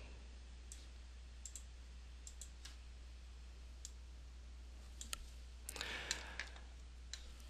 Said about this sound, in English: as I type my search terms